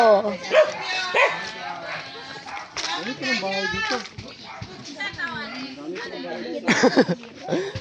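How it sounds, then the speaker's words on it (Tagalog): A dog barks a few times amid lively voices and household commotion nearby. "May aso."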